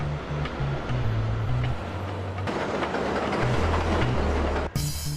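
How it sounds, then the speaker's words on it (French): A New York subway train runs north of Harlem into the Bronx, its loud continuous rumble and rattling wheels carrying hum tones that shift in pitch, broken by a short abrupt change near the end. "Au nord de Harlem, le métro se projette dans le Bronx."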